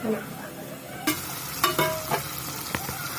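Dried fish frying in a pan as part of a cucumber and dried fish curry, a steady close sizzle broken by several sharp scraping clatters of stirring.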